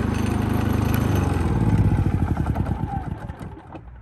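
A Predator 3500 watt inverter generator runs close by with a steady mechanical drone, then its engine note drops and fades as it settles back toward a quieter idle.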